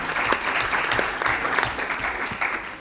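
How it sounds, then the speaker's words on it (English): Audience at a European Parliament symposium on anti-Semitism breaking into brief, steady applause, a dense patter of clapping hands in a hall, moderately loud and continuous. "You see, Salla, the extra applause you get for being brief as well."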